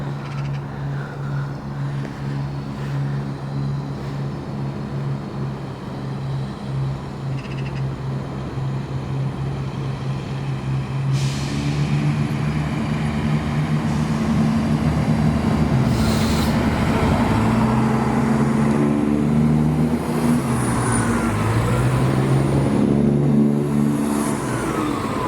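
Passenger train 174.26 departing South Gyle station, a diesel unit rumbling up close and rising in pitch as it pulls away, with squealing rail noise toward the end.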